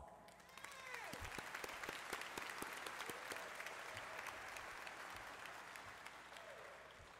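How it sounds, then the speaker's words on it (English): A room full of people at a community college commencement ceremony breaks into applause, the clapping swelling after the first second and carrying on steadily, with distinct nearby claps over the crowd. "you deserve a round of applause"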